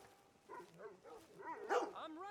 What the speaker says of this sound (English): Why are you all barky?